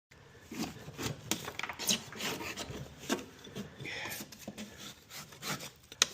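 A lawn mower part is scraped by hand, making rough, gritty rasping strokes in an uneven rhythm, close and moderately loud with no talking.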